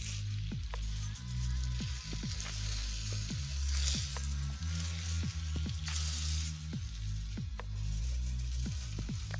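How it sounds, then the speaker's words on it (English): Jollof rice cooks in a pot while a spoon stirs it, giving a series of close scraping and squelching strokes in an irregular rhythm over a soft sizzle. "It is cooking beautifully, and we just want to stir it."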